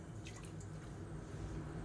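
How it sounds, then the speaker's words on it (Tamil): Water poured into a pot while making a Tamil kulambu curry, a steady close trickling and splashing that runs without a break. "ஒரு 5 டம்ளர் அளவுக்கு தண்ணி சேர்த்துக்கலாம்"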